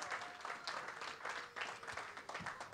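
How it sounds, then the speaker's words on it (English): Quiet audience applause for two young door openers at a Clubhouse Live evening event, a steady dense patter of many hands clapping at a distance, fairly faint throughout. "Give them a round of applause."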